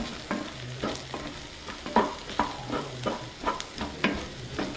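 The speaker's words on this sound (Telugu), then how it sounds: "దీన్ని కాకరకాయ ఫ్రైలో వేసి బాగా కలుపుకోవాలి" Bitter gourd fry being stirred in a pan with pounded chilli, garlic, cumin and salt paste, rhythmic scraping strokes about twice a second over a low steady sizzle, close and alone.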